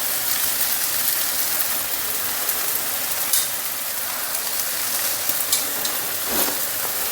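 Grated coconut is stirred into a sizzling taro shoot stir-fry, a constant close frying crackle with occasional soft scrapes of the spoon against the pan.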